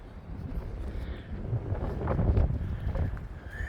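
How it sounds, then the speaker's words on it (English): Wind buffets a microphone outdoors in loud, uneven low-pitched rumbling gusts that swell toward the middle of the stretch and then ease off slightly. "Here's the wind."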